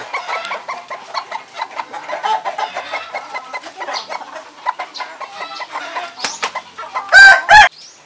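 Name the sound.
turkey and poultry calls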